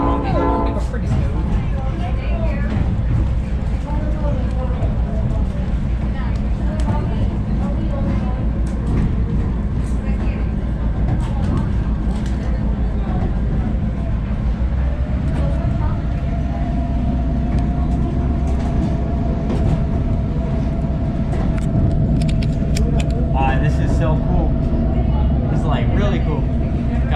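Train riding through the Jim Thorpe Rail Yard entrance beneath the Route 903 bridge, a constant low rumble and rattle of wheels on track, with people talking over it throughout.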